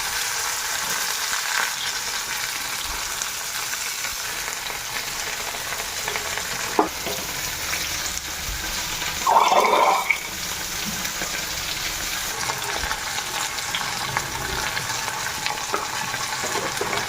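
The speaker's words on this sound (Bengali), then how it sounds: "আর এদিকে তেলও গরম হয়ে গেছে, তিতা করলাগুলি দিয়ে নিই।" Bitter gourd slices frying in hot oil in a pan with nigella seeds: a steady, close sizzle runs throughout, with a brief louder burst of spattering near the middle and no talk.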